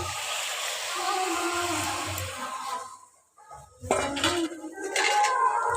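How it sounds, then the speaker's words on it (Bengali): Boiled dal goes into a pan with a soft, steady wash of noise, then a brief lull followed by clattering spoon-against-pan knocks and scraping, close and fairly quiet. "এবার এর মধ্যে সিদ্ধ করে রাখা ডালটা দিয়ে দেব"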